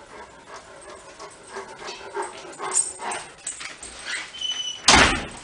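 A dog barks and pants indoors, with scuffling and movement close by and one sharp loud burst near the end, no voices.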